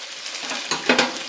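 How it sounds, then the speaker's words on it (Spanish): A spoon turns homemade fried tomato through a meat and vegetable stew, a brief steady sizzle with a few louder scraping strokes near the end, close and without voices. "Este, como ya está frito, solamente darle unas vueltas y ya está."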